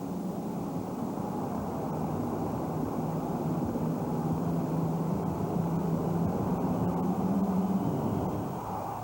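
A 6,000-horsepower pulling machine with 1930s-40s engines roars at full throttle during a 1991 USHRA monster truck event in New Orleans. The roar is loud, steady and close, holding at a constant level from start to finish.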